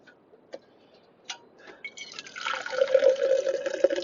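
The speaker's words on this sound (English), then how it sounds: "I'm gonna pour me some coffee right quick." Coffee poured into a cup indoors, a few faint clinks at first and then a steady close liquid trickle that rises as the cup fills over a couple of seconds.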